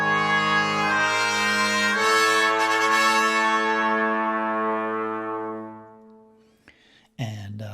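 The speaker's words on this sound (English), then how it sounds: "we're going to have the trumpets rub here in that third measure, a little bit of dissonance that resolves in the fourth measure" Orchestral trumpets sustain a dissonant rubbing chord that resolves, a rich harmonic brass swell holding steady for several seconds before fading out, followed by a short burst of another sound at the end.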